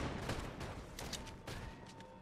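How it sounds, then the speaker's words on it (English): Rapid gunfire in the video game Fortnite, a dense run of overlapping shots and bursts at steady loudness throughout, sounding close and continuous with no talk over it. "Oh, someone's shooting at me."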